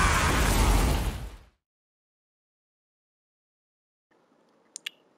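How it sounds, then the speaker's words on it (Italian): Explosion in the video game Outriders, a loud roaring blast that decays over about a second and a half, followed by near silence and two small sharp clicks. "Sembrato un filo troppo forte, eh? L'esplosione."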